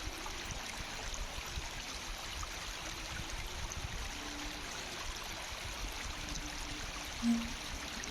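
River water rushing over stones in the Jinjim river, a steady broadband wash and trickle heard alone and fairly quiet throughout, with one faint brief knock near the end.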